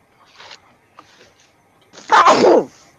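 A single sharp sneeze bursts out loudly near the end, preceded by faint rustling and quiet movement.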